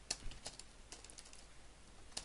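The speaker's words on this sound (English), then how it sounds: "stupid keyboard." Quick bursts of typing on a computer keyboard, light clicking keystrokes in short clusters with pauses between, close but faint and alone.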